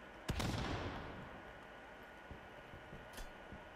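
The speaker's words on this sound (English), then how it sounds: "Hear that claymore?" A claymore mine goes off in an online first-person shooter match, one sharp blast followed by a rumbling tail and scattered smaller pops, heard at moderate distance over steady game background noise.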